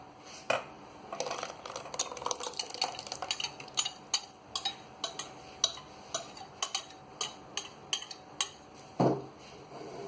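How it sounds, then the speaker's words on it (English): A utensil clinks and taps repeatedly against a bowl while dry ingredients for an eggless chocolate cake are mixed, giving a steady series of sharp, close ticks. "Mix all the dry ingredients together."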